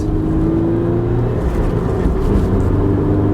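A 2017 Subaru BRZ engine drones steadily and loudly from inside the car, a continuous engine hum with no talking.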